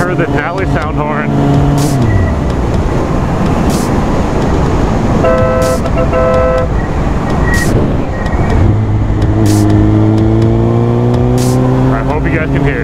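Horn of a 2007 Suzuki GSX-R 1000 sport motorcycle sounding in short steady tones between bursts of loud road and wind noise, with engine hum underneath and talking nearby.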